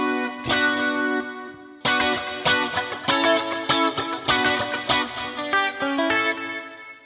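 Electric guitar with reverb, a single eighth-note delay and chorus, plus a compressor boost at the start of the chain, playing ringing chords and picked notes in a steady rhythm, close and loud, with echoing repeats trailing each attack.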